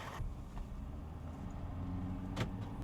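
A loaded pickup truck driving on the road, heard as a steady low engine and road rumble from inside the cab, with a brief rattle or knock near the end and no talk.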